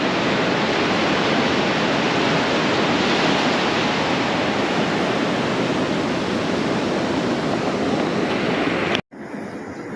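Beach ambience at dawn on the Goa coast, with loud, continuous wash of breaking waves and surf close by. It fills the scene with a steady roar that cuts off abruptly near the end.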